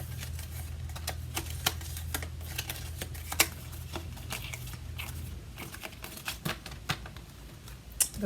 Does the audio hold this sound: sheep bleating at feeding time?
no